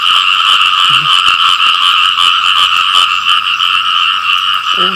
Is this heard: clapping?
no